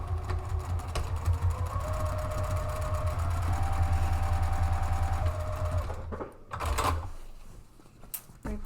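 A sewing machine runs steadily, stitching the side seam of a drawstring picnic bag with a fast, even whir for about six seconds, then stops with a few brief clunks.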